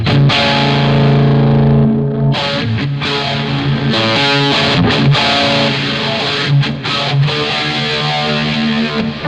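Electric guitar played through a stereo wah effect with overdrive, giving a loud, distorted, sustained tone with sweeping filtered chords and a few short breaks, no voices.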